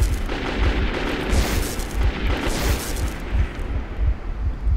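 Gunfire in the video game Metro 2033, a dense continuous barrage of rapid low booming shots at steady volume for several seconds, with no talk over it.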